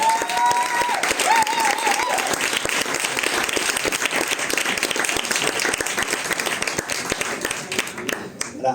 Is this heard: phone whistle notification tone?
no